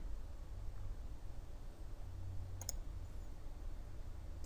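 A few quiet mouse clicks sound while working in Inventor CAD software, isolated taps over a low hum of room noise.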